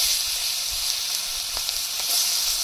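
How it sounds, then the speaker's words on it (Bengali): Chopped onion sizzling in hot mustard oil left over from frying fish, a continuous bright hiss with occasional small crackles and pops, close and steady throughout. "মাছ ভাজা তেলের মধ্যে দিয়ে দেবো পেঁয়াজ কুচি"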